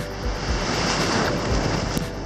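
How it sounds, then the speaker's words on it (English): Ocean surf breaking during a surfing session, a steady broadband wash of waves with low rumbling swells, heavy wind buffeting on the microphone throughout and no voices. "Now some big waves."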